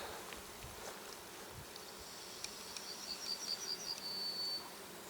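Bees buzz steadily around a blooming small-leaved linden tree in a forest, a faint, even insect hum with a few individual insects whining closer past the microphone.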